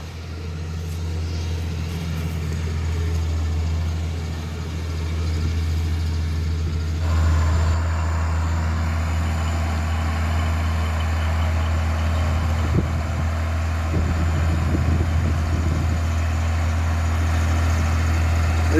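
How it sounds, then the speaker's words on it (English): A White 2105 front-wheel-assist tractor, just started after weeks of sitting, idles alone with a steady, deep, low rumble throughout and no voices. "This is a white 2105 full front wheel assist tractor."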